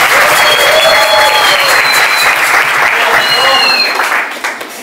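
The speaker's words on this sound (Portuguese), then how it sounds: "Passada de palmas de hoje." A loud round of applause from an audience at a capoeira graduation, dense and sustained clapping with a few voices mixed in, tapering off toward the end.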